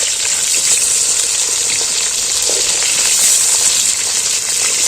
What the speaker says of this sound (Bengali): এবার আমি মাছটা ভালো করে উল্টে লাল করে কিন্তু ভেজে নিই